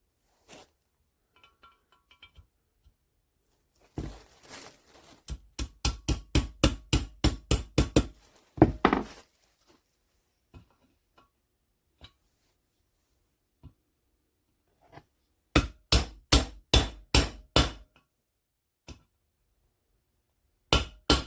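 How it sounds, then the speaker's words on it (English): A socket used as a driver taps a bearing into a 1984 Kawasaki KDX 200 engine case during a bottom-end rebuild, giving sharp metallic knocks close by in two quick bursts, with scattered single taps between them. "a couple taps with the socket and it went right in."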